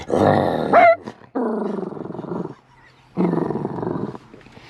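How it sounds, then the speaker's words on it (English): A dog growls in deep, rumbling bursts, close and loud, with two long sustained growls after an opening snarl and short pauses between them. "You growl like that."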